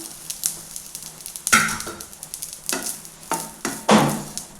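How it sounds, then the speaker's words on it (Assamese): Intermittent sizzling as grated coconut fries in a pan, with bursts of crackle and stirring scrapes rising and fading over a few seconds. "এতিয়া মই নাৰিকলখিনি ইয়াতে ভাজি লওঁ।"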